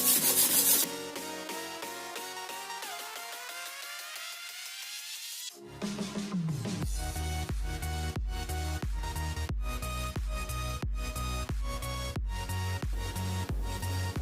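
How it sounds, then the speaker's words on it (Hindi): Sugar rattles inside a lidded container of cold coffee being shaken, heard alone as a rising scrape followed by a fast, steady series of rough, gritty strokes. "अब हम ढक्कन लगाएंगे और इसे शेक करेंगे। और जब तक करेंगे ये चीनी की आवाज आ रही है"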